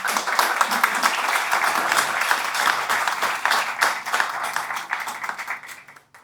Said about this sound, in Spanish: Creo que le demos un aplauso a Néstor.